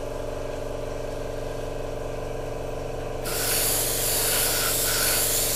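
An airbrush sprays paint onto the underside of a 1/35 Tamiya M1A1 Abrams tank model, giving a steady close hiss that grows brighter and louder partway through, over a continuous compressor hum.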